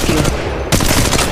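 Rapid automatic gunfire in the Apex Legends video game, a loud dense burst of shots alone, with a brief break partway through before firing resumes.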